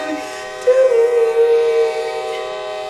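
A train horn or whistle sounds as one steady, sustained tone of about a second and a half over a faint background, with no voices.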